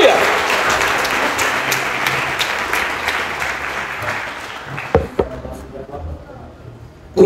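A church congregation applauds during a Portuguese-language worship service, dense clapping that holds steady for about five seconds before thinning out into scattered claps and room noise.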